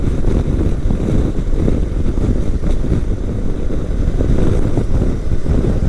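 Honda CB500X motorcycle cruising at about 95 km/h on a windy day, with steady loud wind rush and low engine drone filling the whole stretch without pause.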